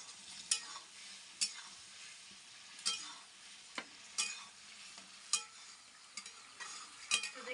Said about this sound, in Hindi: इसको अच्छी तरह से मिला देते हैं लौकी में।